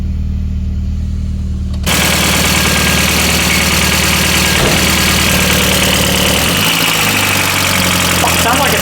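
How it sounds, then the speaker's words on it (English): A barn-find VW Golf GTI that has sat unused, its engine catching after a start and settling into a loud, rough, clattery idle close by, with a quiet lead-in before it fires. "sounds like a diesel"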